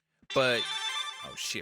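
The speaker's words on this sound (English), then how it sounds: "hold on, that was my phone." A mobile phone ringtone sounds briefly, a bright, high-pitched tone under a man's exclamation, lasting about a second before cutting off.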